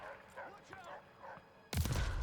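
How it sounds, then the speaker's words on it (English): A dog barks a few quick yips in Call of Duty: Vanguard, a World War II shooter, fairly near, followed by a sudden loud burst of gunfire or an explosion. "Is that a dog?"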